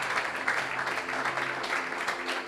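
A church congregation claps together in steady, dense applause, loud and continuous throughout with no break.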